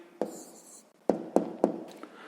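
A pen writes down an answer in a sixth-grade maths exercise, a brief scratch followed by three sharp taps and strokes on paper, close and quiet, with no voices.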